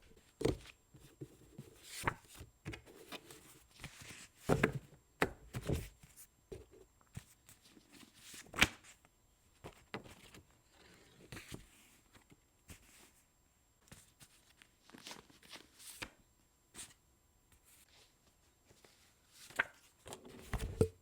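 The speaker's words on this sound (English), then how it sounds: "Let's actually just shuffle." Crisp, rapid riffling and clattering of playing cards in quick bursts, with short pauses between shuffles and sharp taps at the edges.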